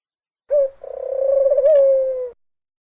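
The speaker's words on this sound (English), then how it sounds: "A white bird would appear and sing." A single bird gives a clear, steady, cooing call that lasts about two seconds, alone and close.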